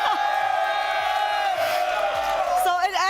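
A large crowd at a Counter-Strike tournament, the Thunderpick World Championship 2024, roars and chants loudly in sustained, tonal yells that swell near the end, with voices mixed in.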